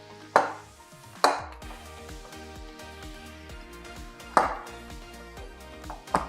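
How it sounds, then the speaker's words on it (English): Bread dough, worked smooth with an oiled hand, is kneaded with a few sharp slaps and thumps against a surface. The hits are spaced irregularly over soft background music. "this kneading part"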